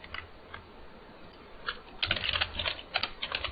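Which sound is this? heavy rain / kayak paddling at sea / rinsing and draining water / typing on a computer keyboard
typing on a computer keyboard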